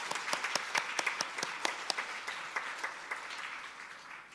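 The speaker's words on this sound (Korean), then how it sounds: "우리 박수로 환영하겠습니다." A church congregation breaks into welcoming applause, a steady spread of many hands clapping at a moderate distance, with a few sharper individual claps standing out.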